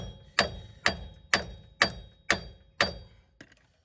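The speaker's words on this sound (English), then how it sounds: "That's a Ford number 3 hammer, and I ain't getting that to move." Six heavy metallic hammer blows on a 2017 Ford Transit Connect drive shaft, evenly spaced about half a second apart with ringing decay, followed by a lighter seventh tap.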